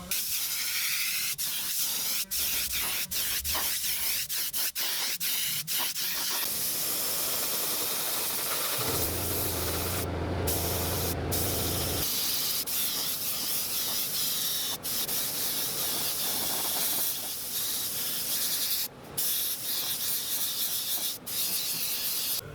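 An airbrush sprays white Createx paint onto a handmade rock bass lure, a steady close hiss that runs almost without break, with a few short gaps and brief clicks.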